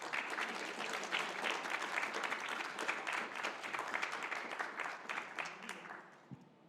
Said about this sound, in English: So if you all could give them a round of applause.